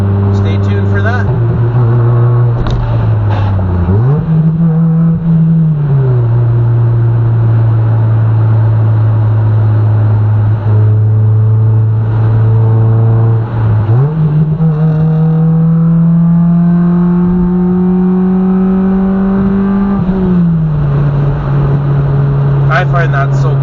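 A manual car is driven and shifted without the clutch, its engine drone steady and close, pitch dropping and rising at gear changes; a person talks over it throughout.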